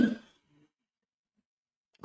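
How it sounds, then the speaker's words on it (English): A single cough close into a microphone during a live football talk stream, a short loud burst followed by near silence, then a faint onset of another sound at the very end. "Sorry, coughing to the mic"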